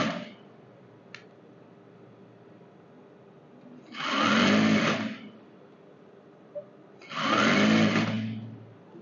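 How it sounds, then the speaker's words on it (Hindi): A sewing machine stitching a balancing seam through cotton lining fabric for a simple salwar, running in two short close bursts of steady whirring with quiet pauses between, no voices. "और मैं इसके बीच में ही सिलाई मार रहा हूँ।"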